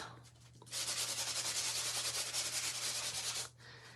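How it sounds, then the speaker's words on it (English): A nail buffer is rubbed over an inked craft project in one steady, fast back-and-forth scrubbing run of about three seconds, close and fairly loud, with quiet before and after. "I'm just going to rub it in spots just to take some of the blue off"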